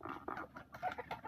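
Backyard chickens cluck softly at close range on a rainy morning, a series of short, throaty calls in quick irregular succession.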